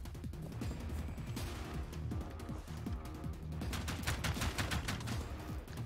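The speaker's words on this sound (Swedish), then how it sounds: "Jag besvarar elden ifall fienden kommer närmare." In the Generation Zero video game, gunfire is exchanged in an outdoor firefight: dense, rapid bursts of shots crackle continuously, growing sharper and more clustered toward the end.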